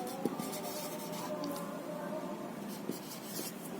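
Chalk or marker writes a number on a classroom board, a steady scratchy stroke with a few faint taps, heard close and continuous.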